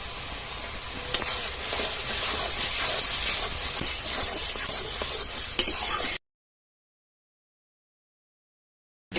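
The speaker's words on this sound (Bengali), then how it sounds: "একদম মশলাটা লো আঁচে খানিকক্ষণ কষিয়ে নেব" Spices with tomato paste, salt, turmeric and Kashmiri chilli powder sauté in a pan over low heat, with a steady close sizzle and occasional stirring scrapes, ending abruptly into silence partway through.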